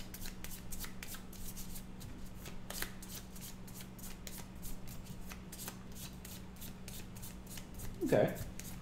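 A deck of game cards for Kingdom Death: People of the Stars gets shuffled, with a run of quick crisp riffling ticks over a low background hum and a brief voice near the end.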